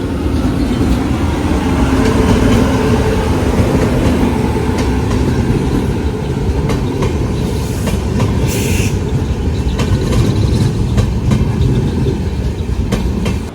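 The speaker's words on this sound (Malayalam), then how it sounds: "ഡൽഹി പോകുന്ന മംഗളയും എറണാകുളം പോകുന്ന മംഗളയും കൊണ്ട് ഇവിടെ കുന്താപ്പുരയിൽ വെച്ച് കണ്ടുമുട്ടുന്നു" Mangala Express train passing Kundapura crossing on the Konkan Railway, a loud, continuous rumble of railcars with steady clickety-clack of wheels over the track and faint squeal, close and unbroken for the whole stretch.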